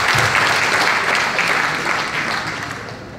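An audience at a political gathering gives loud applause to welcome a speaker, with dense clapping that is strong at first and slowly tapers off.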